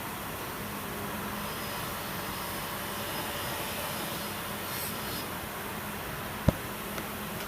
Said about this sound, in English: Is it the end of the world if the wire wheel hits the pliers?